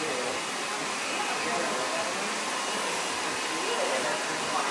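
A salon hair dryer blows liquid wax into freshly cut hair, giving a steady, loud, airy whoosh that runs unbroken throughout while a stylist talks beneath it.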